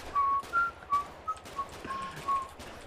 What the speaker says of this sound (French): Tu vas arrêter de siffler là?